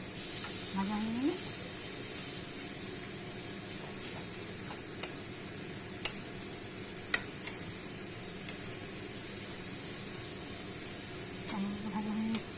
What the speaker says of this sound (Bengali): এবার টমেটোটা দিয়ে দিলাম, টমেটোটা দিয়ে দিয়ে টমেটো কষা হয়ে গেলে, ভাজা হয়ে গেলে